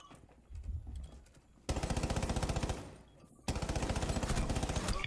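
Rapid pistol fire in the tactical shooter Rainbow Six Siege, a muffled burst followed by two long strings of fast, evenly spaced, loud shots broken by a brief pause.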